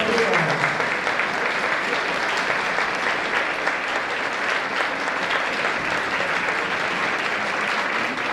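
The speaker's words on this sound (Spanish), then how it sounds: "Un aplauso para Angelina." Sustained applause from a crowd at an Asturian Christmas music gathering, dense even clapping that holds steady and fairly loud throughout with a murmur of voices underneath.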